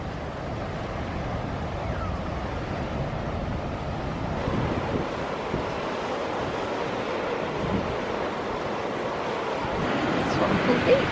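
Strong wind buffets the microphone on a coastal walk near Swanpool, Falmouth, a steady loud rushing roar with surf-like wash underneath throughout, rising slightly at the end.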